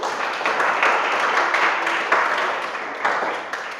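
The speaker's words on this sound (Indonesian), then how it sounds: "Tepuk tangan dulu." A classroom of students claps after a classmate's presentation, a dense, continuous patter of hands for nearly four seconds that swells slightly and then tapers off.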